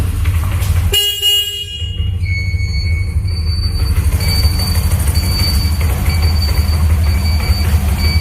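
A used Bajaj Platina motorcycle engine idles with a steady, low, close rumble throughout. A sharp tonal blast sounds about a second in, and a faint high whine lingers afterwards.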